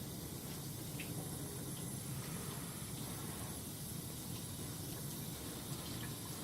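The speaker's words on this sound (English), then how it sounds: "with the water running, rinse your plate very thoroughly, both sides." Tap water runs steadily into a sink while a copper intaglio printmaking plate is rinsed on both sides, a faint continuous hiss and splash with no talking.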